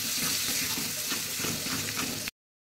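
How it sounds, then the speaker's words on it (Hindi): Tomato paste sizzles and is stirred in a kadai, a loud, close, continuous frying hiss with scraping stir sounds, cutting to silence near the end. "अब इसमें ऐड करेंगे जो मैंने पेस्ट बनाई है टमाटर का, उसको चलाएंगे इस तरह से।"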